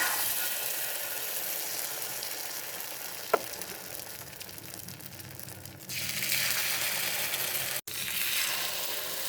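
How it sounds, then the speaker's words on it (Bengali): Pitha batter is poured onto a hot oiled griddle over a medium flame and hisses in a steady, close sizzle that swells louder partway through and keeps going under a faint metallic clink, with no talking. "এই যে এখন আমি পিঠার ব্যাটারটা দিয়ে দিব।"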